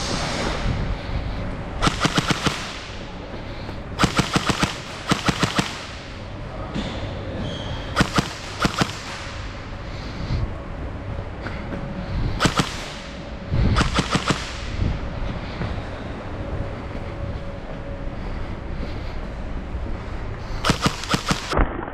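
An SLR CQB gel ball blaster made by JingJi fires repeated sharp bursts of shots, loud and close, spread in clusters across the stretch with quieter pauses between them.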